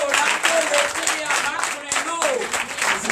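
A church congregation at a night deliverance and prophecy service applauds and cheers for Jesus, loud and continuous, with excited voices and shouts mixed into the dense clapping.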